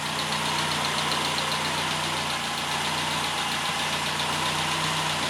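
A Triumph Herald 13/60 engine on freshly refreshed SU HS2 carburettors idles steadily at about 900 RPM, a close, even mechanical chug with a faint ticking knock and no voices.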